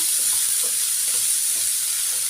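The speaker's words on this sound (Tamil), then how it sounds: "நல்லா வதக்கிக்கோங்க வெங்காயம் பச்சை மிளகாலாம்" Steady, loud sizzling of onions and green chilies frying in a hot pan, with faint scraping as they're stirred; no voices.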